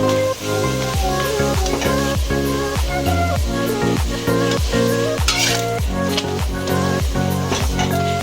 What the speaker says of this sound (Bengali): তাওয়া গরম হয়ে গেছে, এবার এটা আমি পাল্টে দেবো। শিখে নিয়েছি, এবার এর উপরে আমি তেল দিয়ে দিচ্ছি।